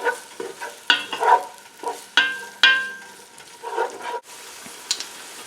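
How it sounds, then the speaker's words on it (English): Chopped onions sauté in a pan for spaghetti and meatballs, a soft steady sizzle broken by repeated scraping stirs and clinks of the utensil against the pan, close by. "And stir until your onion becomes translucent."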